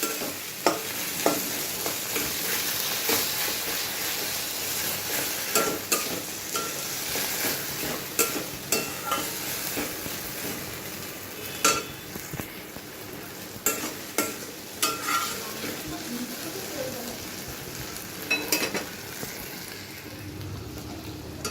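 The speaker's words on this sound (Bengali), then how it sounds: "মাছটাকে এখন অনেকক্ষণ বসে এটার সাথে মিশিয়ে যতক্ষণ না শুকনো শুকনো হবে ততক্ষণ ভাজতে হবে" Lote fish (Bombay duck) frying down until dry in a pan, giving a steady close sizzle broken by frequent scraping and stirring strokes of a spatula across the pan, sustained and moderately loud with no voices.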